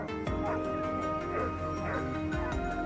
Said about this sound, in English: a noise unmistakably the sound of hunting dogs